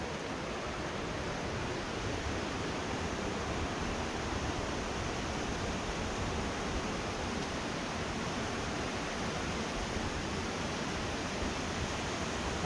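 Putna waterfall at Tulnici in Vrancea pours with a steady, dense rushing roar of falling water, loud and unbroken throughout, with no voices.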